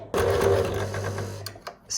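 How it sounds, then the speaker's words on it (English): A home sewing machine that keeps jamming on its thread while a corset is sewn, running in a short whirring burst of about a second and a half, then stopping with a couple of clicks and a faint clatter. "my sewing machine just broke down."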